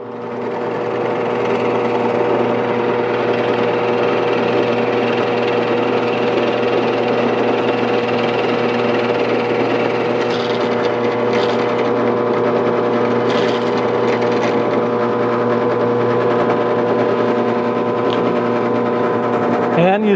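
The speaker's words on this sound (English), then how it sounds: "Let the forstner find the pilot hole." A power drill drives a Forstner bit through wood to cut holes for a 12-gauge reloading tray, giving a steady, loud motor whine that runs without a break, with a few light bumps near the end.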